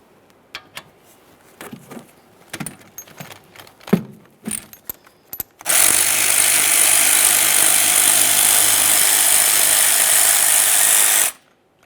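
Rear brake caliper slider pins on a 2013-2020 Ford Fusion being removed, with several sharp clicks and metallic clanks of the socket, then a loud, sustained whir of a power tool running for about six seconds before stopping abruptly.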